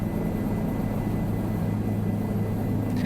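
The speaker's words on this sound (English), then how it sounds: "Does it improve helicopter flying?" A helicopter flies in Microsoft Flight Simulator 2020, its steady engine and rotor roar droning evenly and loud throughout with no talk.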